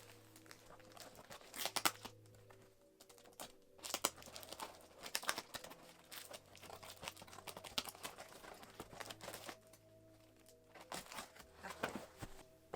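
Packaging for a 1/6 resin BJD centaur doll being opened by hand: close, irregular bursts of crinkling, tearing and rustling paper or plastic, with quiet pauses between, no talk.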